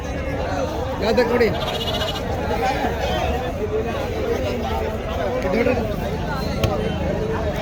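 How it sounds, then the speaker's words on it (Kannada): Goats and sheep bleat at a busy Sunday livestock market, with several short wavering cries over a constant hubbub of crowd chatter and nearby talk. "ಭಾನುವಾರ KRS ಸಂತೆ, ಮೇಕೆ ಕುರಿಗಳು ಸಂತೆ."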